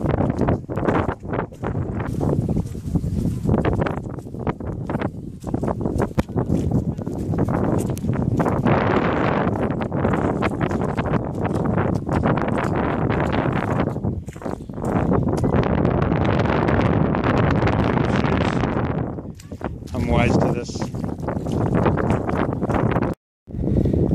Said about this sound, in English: It's a bit windy, as you can hear.